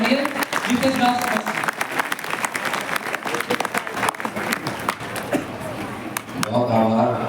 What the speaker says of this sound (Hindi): मैं चाहूंगा कि जोरदार तालियों से उनका स्वागत करिए